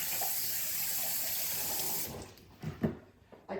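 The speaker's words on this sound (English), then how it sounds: "I'm gonna wash my hands and just stir it." Tap water pours steadily from a faucet while hands are washed, a close, soft hiss that cuts off after two seconds, followed by a few light splashes and handling knocks.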